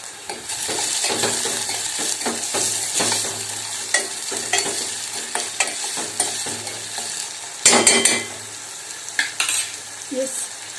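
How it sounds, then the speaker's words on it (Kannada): Chopped tomatoes fry in a hot tempering while being stirred. A steady, close sizzle runs throughout, broken by scraping stir strokes and a few sharper clinks of the utensil against the pan. "ಒಗ್ಗರಣೆಯಲ್ಲಿ ಏನಾಗಬೇಕು ಟೊಮೆಟೊ ಏನದು ಕ್ಲೀನಾಗಿ ಬೇಯಬೇಕು ನೋಡಿ ಇವಾಗ ಹೆಚ್ಚಿಟ್ಕೊಂಡಿರೋ ಟೊಮೊಟೊನ ಸೇರಿಸ್ತಾ ಇದ್ದೀನಿ"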